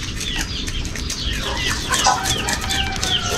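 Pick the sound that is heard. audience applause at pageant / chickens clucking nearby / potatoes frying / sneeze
chickens clucking nearby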